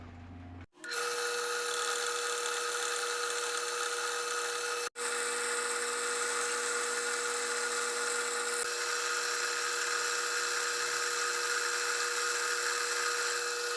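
A milling machine cuts along the sides of a metal part, giving a steady, high, whining tone with a constant pitch that runs on and on, broken only by a brief start and one short interruption midway.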